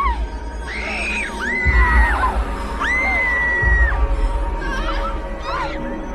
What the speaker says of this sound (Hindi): कुछ भयानक अनसुनी चीखें सुनकर वो जाग गया।